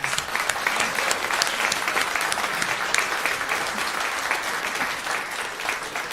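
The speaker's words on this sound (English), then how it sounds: "let's give our speakers another round of applause" An evening event's audience gives its speakers a round of applause: dense, continuous clapping from a sizeable crowd, loud and even throughout, with no talking over it.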